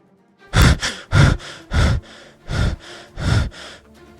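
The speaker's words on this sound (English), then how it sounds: "Izanagi leaned against a large rock, gasping for air, relieved that he had finally escaped." A man gasps for air after escaping, giving six loud, close, ragged breaths in quick succession, each a sharp heaving gasp with brief pauses between, and no other sound.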